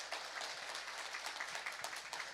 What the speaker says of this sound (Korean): 두 분 박수로 환영해 주시기 바랍니다.